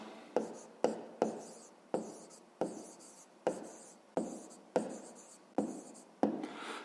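Pencil or pen writing by hand in a notebook during a fifth-grade math exercise: a steady series of about a dozen short scratchy strokes, close and fairly quiet, with no voices.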